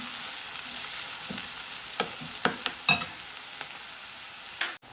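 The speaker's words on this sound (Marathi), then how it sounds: "आणि आलं आणि लसण कांदा आहे तो फक्त मऊसर करायचा आहे जास्त परतून घ्यायचा नाही" Ginger, garlic and onion sauté in a pan with a constant hissing sizzle, broken by several sharp clinks and scrapes of a spatula, one louder knock near the end, and no talk.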